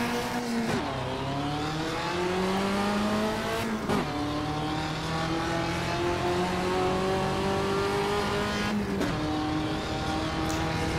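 Classic race cars from past eras race in the Automobilista 2 sim. A loud, close engine drones through long rising revs, and sharp gear shifts interrupt it at a few points, steady throughout with no talking.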